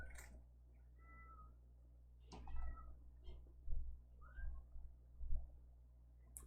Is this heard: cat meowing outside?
yes